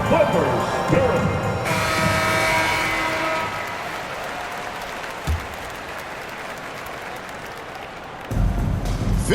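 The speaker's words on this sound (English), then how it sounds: "Let's give a round of applause for your Clippers Spirit." A crowd in the video game NBA 2K23 bursts into loud, sustained applause and cheering at a basketball game that rolls on for several seconds after a brief voice, then fades a little near the end.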